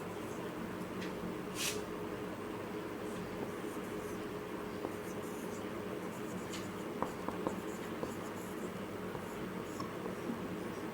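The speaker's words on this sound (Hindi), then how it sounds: "यहाँ पे मैं लिखता हूँ बाय यूजिंग" Pen writing by hand on paper while working a physics problem on an operational amplifier, a faint, steady scratching that runs continuously under a low background hiss, with no talk.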